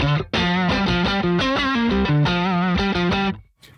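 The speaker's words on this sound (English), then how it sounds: "this is the sound of the guitar without anything switched on with the gear" Electric guitar with no effects switched on plays a quick run of bright picked notes, loud and close, in a steady rhythm for about three seconds before stopping abruptly.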